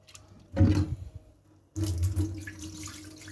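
A curtain being rubbed by hand in water in a sink, producing two bursts of close sloshing and splashing separated by a brief lull.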